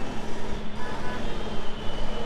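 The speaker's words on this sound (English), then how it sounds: "You can see the traffic down below" Dense city traffic rumbles from the streets below a high viewpoint in Jaipur, a steady broadband wash of engines and trucks with a faint reversing beep, fairly distant and continuous with no talking.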